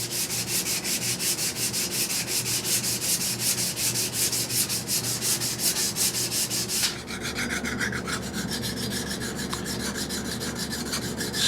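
A knife blade is polished on a grinder or belt sander to remove scratches, giving a continuous close abrasive rasping that runs steadily, then changes to a softer, thinner rubbing tone partway through, with no talk.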